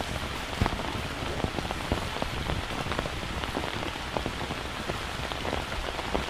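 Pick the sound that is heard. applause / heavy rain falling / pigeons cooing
heavy rain falling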